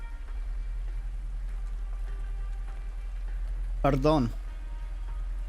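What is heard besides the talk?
rain falling, from the video game Arknights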